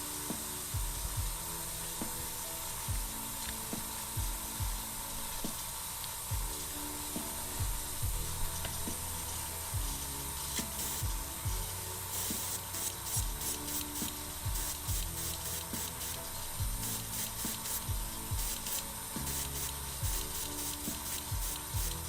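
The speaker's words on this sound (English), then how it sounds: "we are still spraying from above the miniature, just at a wide angle for now" Airbrush or spray can misting primer onto a Plague Marine miniature, a steady hiss with short bursts and clicks of the trigger, close and continuous over about twenty seconds, no voices.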